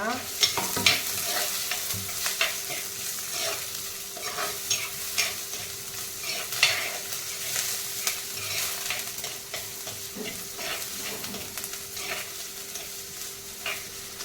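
Curry leaves fry in hot oil in a pan while being stirred, giving a steady bright sizzle broken by frequent scraping and clinking strokes across the whole stretch.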